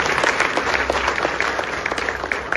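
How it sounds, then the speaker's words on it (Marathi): Audience at a live political speech in Pune applauding, a dense steady wash of many hands clapping close and loud for the whole stretch, with no one speaking over it. "त्याबद्दल जोरदार टाळ्या वाजवून त्यांचं अभिनंदन करावं."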